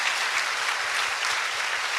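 An audience at a school admissions information session applauds, a thick, even wash of clapping hands that holds steady throughout.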